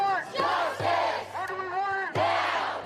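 A protest crowd in downtown Kansas City shouting in unison, chanting loud rhythmic phrases in repeated bursts, with many voices close together.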